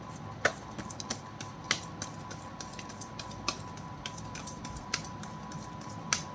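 Tarot cards being shuffled, a run of light, crisp riffling clicks and taps at an irregular pace, close and fairly quiet, with a faint steady hum underneath.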